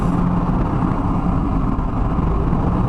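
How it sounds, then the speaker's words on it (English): A semi-truck passes close by on a curving road, its engine a loud, steady low rumble with broad road noise that holds without a break. "Truck trying to pass on a curve."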